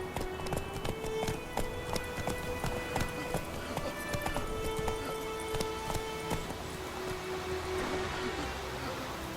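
Clip-clop of hooves from the horse Roach in the video game The Witcher 3, a steady running rhythm of hoofbeats carried over a constant bed of game music and ambience.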